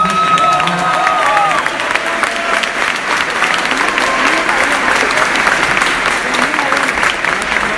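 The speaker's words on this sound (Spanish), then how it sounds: "así que pido un aplauso para todos." Sustained applause and cheering from a studio crowd celebrating a band's first music video team during a live radio show, steady and dense throughout with some whistles and voices mixed in.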